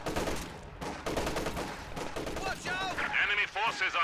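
Heavy video game battle fire, a field gun among it, comes as repeated loud bursts and rapid shots with a metallic ringing tail, while voices chatter over the din in the latter half.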